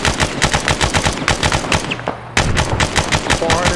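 Gunfire in a combined-arms military video game, heard as loud, dense bursts of rapid automatic fire, near and continuous, with a brief break before the shooting resumes.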